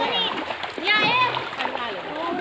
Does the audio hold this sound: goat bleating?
no